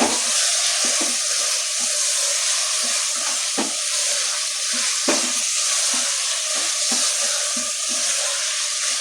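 Chicken stir-frying in a pan with already sautéed onion and tomato, a steady loud sizzle broken by frequent scraping stirs and clicks of a spoon against the pan.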